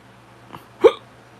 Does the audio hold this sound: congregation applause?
no